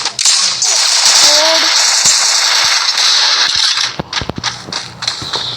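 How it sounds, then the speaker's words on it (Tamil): A rocket launcher fires in a video game, with sharp bursts over a sustained roaring blast, followed by a run of rapid crackling impacts and quieter rumbles. "இது ராக்கெட் லான்ச்சர் ஃப்ரெண்ட்ஸ்"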